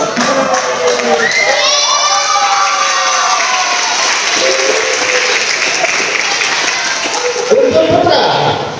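A crowd of children at a martial arts belt grading event claps and cheers continuously, with shouting voices rising over steady applause; adult speech is heard partway through.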